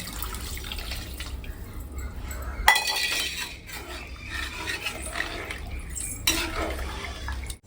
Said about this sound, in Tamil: இன்னொரு மகும் தண்ணி ஊற்றிக்கிறேன்